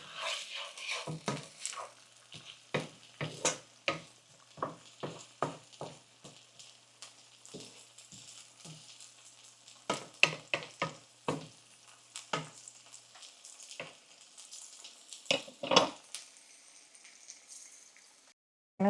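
Garlic frying until golden brown for Guyanese hassa curry, heard as intermittent close sizzling bursts and stirring clatter against the pan, with quieter gaps between.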